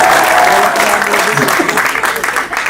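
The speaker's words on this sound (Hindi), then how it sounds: "अच्छा लगे तो तालियां बजाओ" An audience at a live poetry recital claps, a burst of applause that fades unevenly toward the end, with a voice faintly audible over it.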